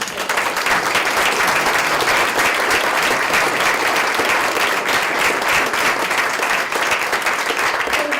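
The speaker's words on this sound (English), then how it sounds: "Please join me in a round of applause." A large audience at a State Assembly candidates' event applauds steadily, dense and sustained clapping filling the whole stretch at an even, loud level.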